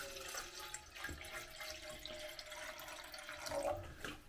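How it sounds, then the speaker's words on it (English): Water is poured into the main kettle of a 1991 Soviet USSR mess kit, a steady splashing trickle running through the whole stretch, fairly close and alone. "So we're going to add some water to the main kettle."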